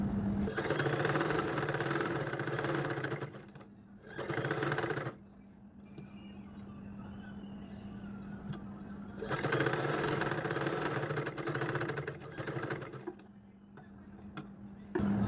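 A sewing machine stitches lining around an umbrella dress in bursts of steady, close mechanical whirring, stopping briefly between runs with a faint hum persisting.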